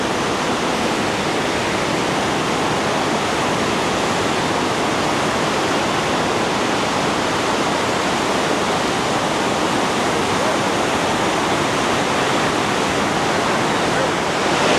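Niagara Falls, heard from down at the base near the churning water, roars as a loud, steady, unbroken wash of noise for the whole stretch.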